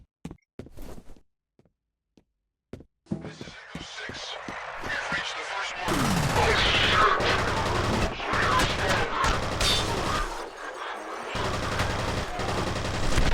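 Rapid bursts of gunfire in the video game F.E.A.R., heavy sustained automatic fire after a few sparse shots, loud and dense, with people talking over it.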